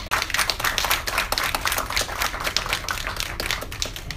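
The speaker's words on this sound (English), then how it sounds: "please give a big round of applause for Dr. Rich Castellano." Audience clapping for a doctor introduced at a social mixer on alternatives to traditional facelifts, a dense, steady patter of many hands close by that carries on without break, with no talk over it.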